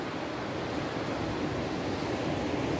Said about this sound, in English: And there's the ocean. Tide is out.